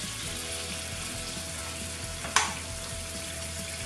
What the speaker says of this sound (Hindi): अदरक लहसुन का पेस्ट डाल रही हूँ